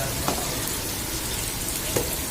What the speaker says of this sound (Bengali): পেঁয়াজটা এবার ভাজা হবে লাল লাল করে।